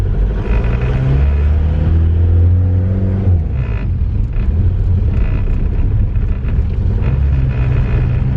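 A mechanically injected turbo diesel VW Jetta drives with its intercooler disconnected, the engine droning low and steady as it revs and shifts, the turbo whooshing and blowing boost, with wind rumble throughout and no talk.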